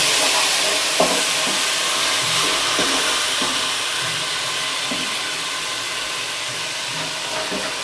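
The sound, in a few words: onion, ginger and tomatoes frying in a pan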